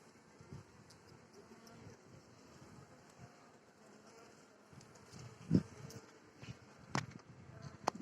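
Carniolan honey bees buzz faintly in the open air around a one-frame nucleus hive, their drone weaving in and out against a soft outdoor background, with a few louder knocks and rustles near the microphone.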